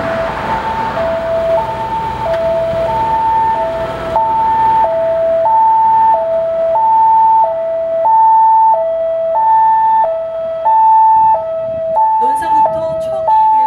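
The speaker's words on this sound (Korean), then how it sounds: "부여소방서에서 구급차가 사고 전방의 교차로를 이용해 사고 발생 지점으로 접근하고" Ambulance from a Korean fire station approaching a crash site on a national road during a snow-preparedness drill, its two-tone siren alternating steadily and loudly throughout, with a brief burst of other noise near the end.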